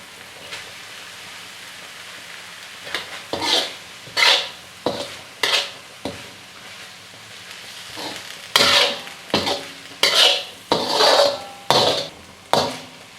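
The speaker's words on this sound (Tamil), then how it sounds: "இப்போ ரைஸை நல்லா மிக்ஸ் பண்ணிவிட்டு இது மாதிரி நல்லா பரப்பி விட்டுக்கோங்க." Rice being stirred and spread in a tawa pan with mushrooms and capsicum: a run of close scraping, clattering spatula strokes in uneven bursts over a faint sizzle, no voices.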